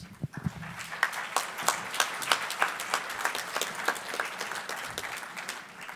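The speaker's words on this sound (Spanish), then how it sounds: "Recibimos con un aplauso a Lucía Castellón." An audience at the opening lecture of an academic colloquium claps to welcome a speaker, a sparse clap or two at first that builds into a steady round of crisp applause, heard close by.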